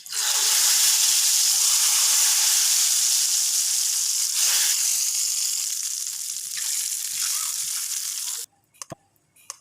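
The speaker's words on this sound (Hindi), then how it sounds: "तड़का अब हम उस दाल के ऊपर डालने लगे हैं।" Loud sizzling hiss as hot oil tempering is poured onto cooked lentils (chana dal), sputtering steadily for several seconds before fading and cutting off into a few quiet clinks.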